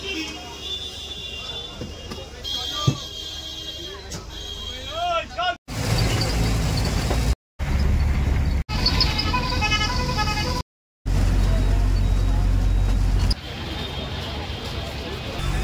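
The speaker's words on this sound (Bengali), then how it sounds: "এই যে দাঁড়িয়ে আছে হাওড়া যাওয়ার বাস, উঠে পড়ি।" City traffic around a bus bound for Howrah, with car and bus horns honking among engine rumble and street babble, broken by brief gaps; continuous loud road noise throughout.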